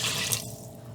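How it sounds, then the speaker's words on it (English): Water pours from a tap or vessel into a cooking pot holding drained rice with salt and oil, a steady close splashing rush that eases slightly after the first half-second. "Pour in the water."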